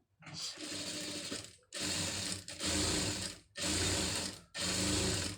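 A sewing machine stitches fabric while a scallop neck design is sewn, running in four steady mechanical bursts with brief pauses between them, close and moderately loud, with no speech.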